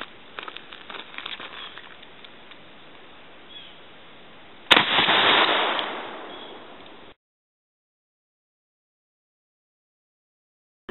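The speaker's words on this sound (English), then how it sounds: "Now we're gonna fire a shot now at 15 yards." A single shotgun shot fired at 15 yards cracks out loud and sharp against quiet outdoor background noise, followed by a short decaying tail before silence.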